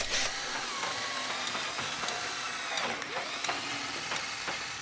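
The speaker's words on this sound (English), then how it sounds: "Using a 32mm hole saw, drill out the center hole first." A 32mm hole saw on a power drill bores through a timber board, giving a steady whining grind close up with small scraping bursts throughout and no voices.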